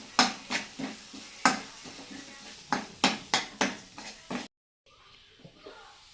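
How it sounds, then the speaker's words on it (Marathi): Spatula scraping and clattering in a pan as onion masala, turmeric and sabzi masala are sautéed for a cauliflower vegetable dish, a rapid run of close sharp stirring knocks over a soft sizzle. "तर आपण याच्यामध्ये टाकूया आणि मसाले चांगले परतून घेऊया."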